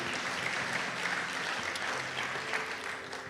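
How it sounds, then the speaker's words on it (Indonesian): A church congregation claps together in a steady, full wash of applause that fills the room evenly for several seconds, with faint murmuring underneath. "Berikan tepuk tangan kita untuk Tuhan kita."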